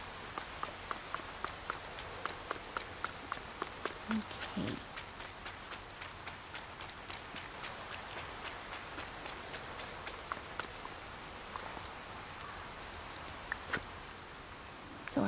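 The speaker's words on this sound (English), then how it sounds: "It is raining." Steady patter of rain in the video game Disney Dreamlight Valley, with scattered sharp drip ticks, soft and continuous, with a single brief spoken word partway through.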